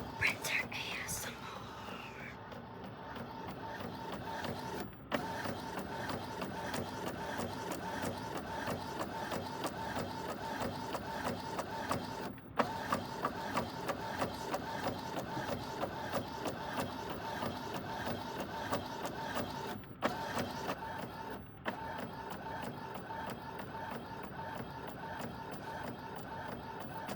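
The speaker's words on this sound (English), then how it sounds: "Printer ASMR." A sublimation printer prints images for tumblers with a steady, continuous mechanical whirr and rhythmic carriage chatter, close and sustained, with a few brief pauses and stops along the way.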